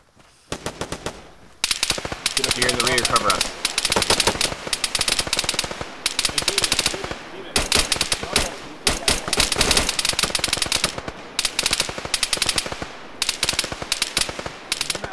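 Sustained light machine gun suppressive fire in ArmA 3, long rattling bursts with short pauses between them, loud and close, with no talk over the shooting.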